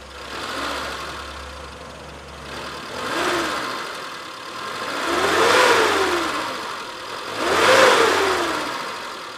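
A 1996 Suzuki Futura 1.3 van engine idling and then revved three times, each rise swelling and falling back, the later revs louder, recorded close with no voices.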